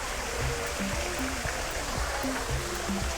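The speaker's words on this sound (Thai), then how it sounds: "ดูน้ำตกได้ ดูน้ำตก" A waterfall at a cafe in Nakhon Pathom, Thailand, gives off a steady, continuous rush of falling water heard close up, with faint intermittent tones in the background.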